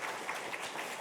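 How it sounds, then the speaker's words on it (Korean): Church congregation clapping together during a Sunday worship service to welcome a new member, a dense, steady wash of applause filling the room. "우리 박수로 한번 축복하겠습니다."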